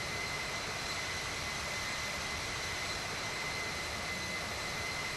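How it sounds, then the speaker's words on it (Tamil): Airliner jet engines roar at takeoff in a flight simulator game, a loud, steady, hissing engine drone with a high whine running continuously throughout. "And here is R take off."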